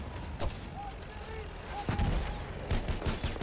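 Machine gun fire in Battlefield 1, heard as scattered, fairly faint bursts of shots against busy battlefield noise, with a few sharper cracks and short whistling tones.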